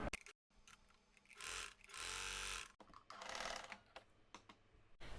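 Sewing machine stitching two fabric pieces of a plazzo and top co-ord set down the center: quick mechanical whirring bursts of rapid needle chatter, close and fairly loud, with short pauses and soft handling clicks between runs.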